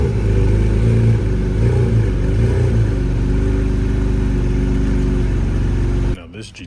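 A car engine revs loudly and steadily at close range with a deep droning rumble, then cuts off abruptly near the end.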